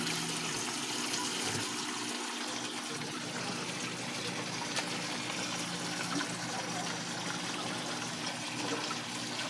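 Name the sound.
water running for washing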